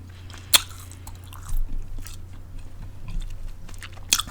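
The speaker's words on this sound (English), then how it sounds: "I'll still chew gum though." Gum chewed close to the mic in a soft-spoken ASMR setting, a few quiet wet clicks and smacks scattered over a low steady hum, no talking.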